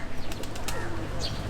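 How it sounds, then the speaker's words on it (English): Pigeons flap their wings in short, brisk bursts near a wall in Penang, Malaysia, where a caged raven and roaming hens sit nearby; the flutters come in a quick cluster over steady background noise. "There's a raven in this crate here, or this cage, a couple pigeons, and then other pigeons up on the wall."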